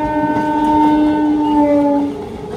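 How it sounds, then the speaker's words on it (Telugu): A Hamsafar Express passenger train rolls slowly through Chennai, its horn sounding loud and sustained over the rumble of the carriages before cutting off near the end. "చాలా స్లోగా వెళ్తుంది బండి."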